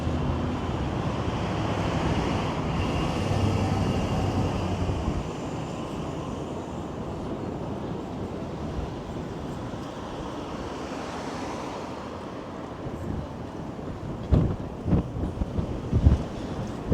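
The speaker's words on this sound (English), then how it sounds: "And this wind is kicking up something fierce right now." Strong, bitterly cold wind gusting along a city street on a winter walk, roaring broadband rush buffeting the microphone, easing partway through, then sharper gusts and bumps near the end.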